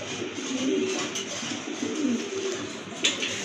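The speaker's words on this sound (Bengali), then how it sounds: "বুদাপেস্টের খুবই সুন্দর কবুতর" Budapest pigeons cooing softly in a loft, with low repeated coos and some rustling, plus a brief sharper sound near the end.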